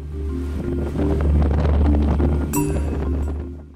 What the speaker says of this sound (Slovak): Nárazy vetra sú také silné, že nás občas hodí na zem.